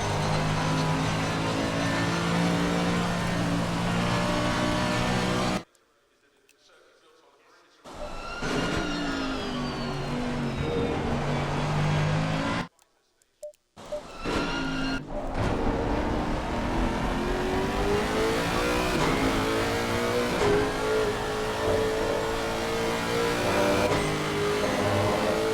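GT race cars lap Silverstone in Assetto Corsa Competizione, their engines loud and continuous, revving up and down through gear changes, with two brief cuts to near-silence.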